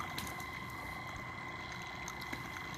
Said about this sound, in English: Sounds like that pump is just running out of water